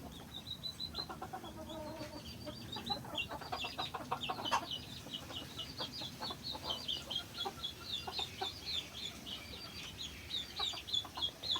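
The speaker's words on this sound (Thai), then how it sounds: "และนี่ก็คือไก่ซูกี้" Silkie chickens cluck and chirp steadily for several seconds, a busy chorus of short, overlapping calls close by with no talking.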